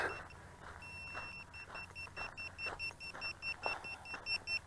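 A small electronic drone finder buzzer (VIFLY Finder V2) beeps in a steady, rapid repeating pattern, high-pitched and fairly faint, amid soft rustling and handling noise outdoors as a lost quadcopter is found.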